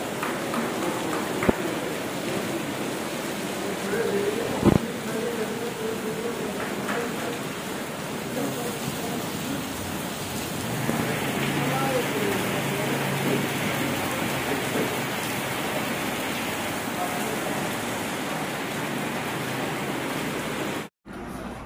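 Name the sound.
torrential downpour of rain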